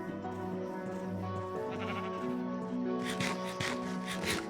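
Sheep in the Minecraft video game bleat several times in quick succession, close and clear, with a few shorter, brighter bleats near the end over a faint background.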